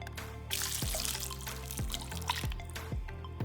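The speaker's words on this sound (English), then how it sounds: "So I'm going to pour some water in here." Water poured into a bowl over black-eyed peas to loosen their husks makes a steady, broadband splashing rush from about half a second to the end, with background music playing beneath it.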